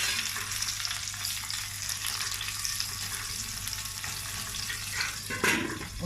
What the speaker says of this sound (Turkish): Sarımsakla birlikte biraz soteleyeceğim.